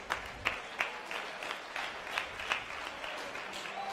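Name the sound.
applause for both fighters after MMA bout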